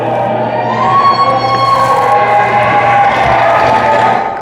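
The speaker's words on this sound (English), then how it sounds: "A lot of energy for that crowd, huh?" Crowd roaring at a basketball game, heard as a steady, loud wash of voices that swells in energy across the whole stretch, with no talk on top.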